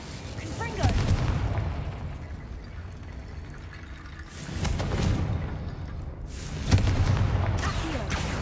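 A Confringo explosive spell cast in a video game, heard as several booming blasts and bursts across the clip, loud and forceful, with no speech over them.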